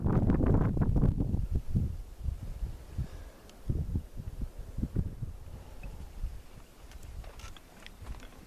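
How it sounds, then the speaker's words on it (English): Outdoors in remote open country, a strong gust of wind buffets the microphone with a loud rumbling roar at the start, then dies back to softer, uneven rustling bursts. "And there's a good gust."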